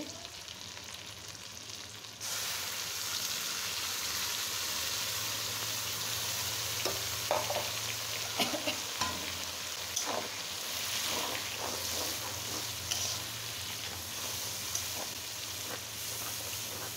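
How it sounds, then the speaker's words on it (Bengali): Spice masala with tomatoes sautés in a pan for fish bhuna, a steady close sizzle and hiss broken by occasional scraping stirs, with no talk. "এখন আমি খুব সুন্দর করে মশলাটাকে কষিয়ে নেব"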